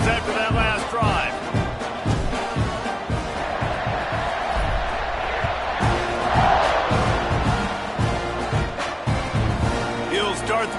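A football stadium crowd roars and cheers steadily after a scoring drive as the kickoff unit takes the field, loud and sustained throughout, with a commentator's voice over the din.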